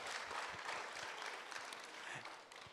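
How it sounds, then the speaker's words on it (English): A round of applause for the organizers of the EMAR 2024 meeting, a steady patter of many hands clapping that sounds distant and quiet, with no talk. "We're just going to give them all a round of applause."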